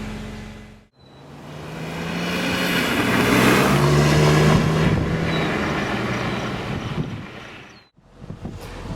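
A BMW M3 E46 convertible pulls away, its engine swelling into a loud, rising drone with heavy wind rush that builds, holds, then drops out briefly before returning.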